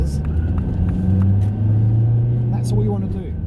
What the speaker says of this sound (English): this car, yeah, it accelerates a lot harder than I was expecting